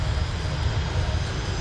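Airplane engine at an air base airshow open day, a steady, loud low-pitched drone holding evenly throughout without voices.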